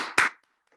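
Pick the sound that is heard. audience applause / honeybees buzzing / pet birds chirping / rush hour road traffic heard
audience applause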